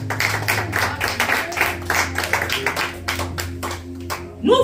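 A congregation claps together during a French-language church sermon, a dense run of hand claps that holds steady for several seconds over a low hum before tapering at the end.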